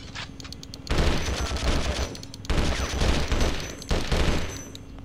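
Bursts of heavy gunfire from the video game Conflict Desert Storm come in three loud, dense volleys, each lasting about a second or more, with quieter gaps between them and no talk over them.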